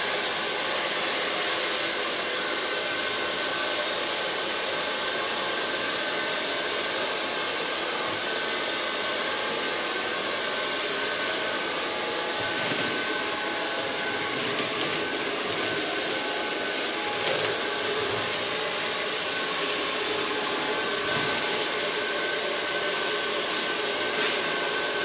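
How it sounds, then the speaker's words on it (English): Hair dryer blowing hair during a bob haircut styling session in a salon, a steady loud whooshing hiss that runs continuously without pause. "So far blow drying."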